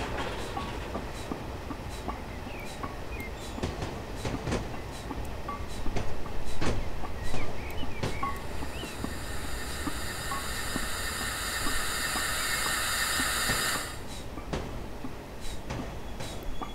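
A steam locomotive in the Train Simulator 2012 game brakes while shunting to couple onto coal wagons: a steady rolling rumble with scattered clicks, then a loud, sustained hiss of the brake release lasting several seconds before it cuts off.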